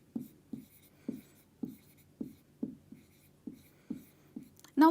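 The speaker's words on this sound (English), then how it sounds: "I'll write it here for you." A marker or pen writing by hand on a board during a grammar lesson: about ten short, evenly spaced strokes in a steady rhythm, quiet and close, with a voice starting at the very end.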